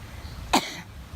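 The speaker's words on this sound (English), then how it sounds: "I want you to go ahead and cough a couple times." A single short cough, close and fairly sharp, during a core-muscle exercise session, over faint background hum and quiet room noise.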